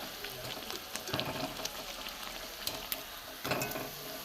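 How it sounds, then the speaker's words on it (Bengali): Fish kochuri frying in hot oil, a steady close sizzle with crackling pops and bursts of bubbling as the pastries cook, no voices. "একটু লাল লাল করে ভাজতে হবে"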